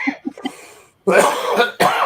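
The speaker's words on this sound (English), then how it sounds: "I hate to cough on everybody" A man on a radio show coughs several times: a few soft short coughs first, then two loud harsh coughing bursts close to the microphone.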